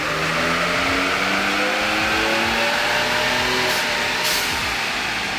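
A stock-tuned car engine revs hard on a dyno, its pitch climbing steadily in a loud, continuous roar with no talking.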